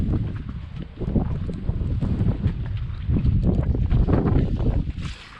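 Wind gusts buffet an anchored sailboat in a southern bay of Grenada during hurricane season, a loud, continuous rushing roar with rattling and thumps that swells midway and stays strong to the end.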